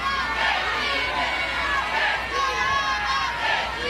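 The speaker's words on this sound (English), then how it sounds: "You hear the Sooner crowd chanting, "We want to hit,"" Sooner softball crowd at a Women's College World Series game against Duke chanting in a rhythmic, repeating cadence, the massed voices swelling about every second and a half over a steady stadium murmur.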